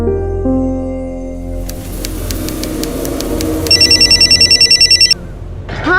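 A telephone rings at home, first with steady electronic tones, then a loud, rapid trilling bell that repeats in a fast burst before cutting off abruptly.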